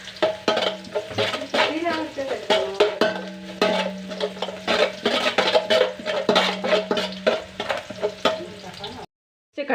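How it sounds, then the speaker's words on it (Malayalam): Mustard seeds frying in hot oil in a pan, a busy crackle of rapid pops and sizzling with stirring scrapes and occasional low murmuring voice, steady throughout before cutting off abruptly near the end. "കടുക് വറുക്കാനാണ്."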